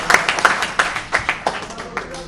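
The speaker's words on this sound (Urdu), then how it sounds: "ملک صاحب کے لیے تالیاں" Rhythmic clapping from a small group in a legislative house after a unanimous resolution, honouring Malik sahib; a couple of seconds of steady, evenly spaced claps with light voices underneath.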